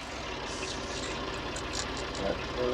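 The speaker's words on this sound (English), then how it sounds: "We'll leave the tractor running" A Ford 4000 tractor engine idles steadily at close range, a constant low rumble that persists throughout with faint background sounds above it.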